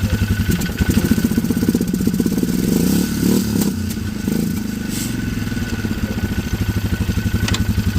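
A Polaris Sportsman 1000 ATV engine idles roughly up close, in need of a tune-up, with a steady pulsing chug and mechanical clatter throughout, a few brief scrapes and knocks in between.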